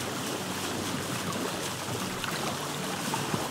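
Ocean water rushes steadily past a raft moving at sea in Vintage Story, a constant, airy swash of waves and breeze with small splashes near the end and no speech.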